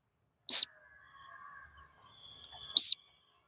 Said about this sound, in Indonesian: Waduh, waletnya banyak lagi sekarang.